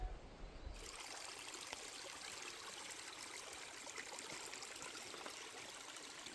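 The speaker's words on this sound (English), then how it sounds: "Pretty little creek." A small mountain creek on a trail in the Alberta wildlands flows with a steady, close rushing and trickling of water, constant and even throughout with no voices.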